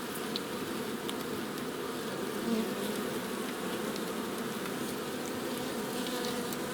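Dense, steady buzzing of many honeybees close by as they take syrup, a continuous droning hum with no voices.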